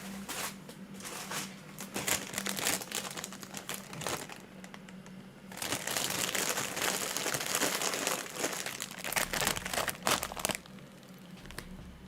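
Crinkling of a Doritos chip bag, irregular rustles and crackles coming in bursts, closest and busiest in the middle stretch, with no talk over it.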